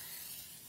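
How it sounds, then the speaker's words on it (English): Cooking oil spray can misting over vegetables before roasting, a steady close hiss that lasts under a second, alone and without talk. "you're going to take this and spray really good, like this"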